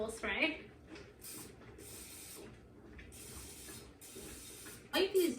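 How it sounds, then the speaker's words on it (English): Olive oil cooking spray is sprayed into homemade candle molds, giving a few soft, short hissing bursts close by, with a speaking voice at the start and end. "So I'm going to take this olive oil spray"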